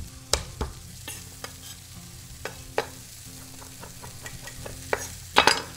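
Rosemary sizzles steadily in a hot pan as it is cooked for pheasant, with a continuous hiss broken by sharp scrapes and taps from stirring, and a louder clatter near the end.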